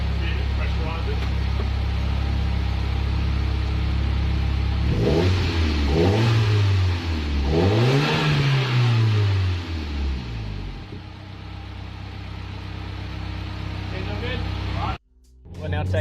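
A Nissan Pulsar GTiR engine runs at a steady idle, then revs up twice in quick rising-and-falling sweeps before settling back to a close, loud idle that cuts off near the end.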